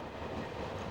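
A railway train rumbles along the line in a brief, steady, dense roar of wheels and carriage noise, close and continuous with no pauses.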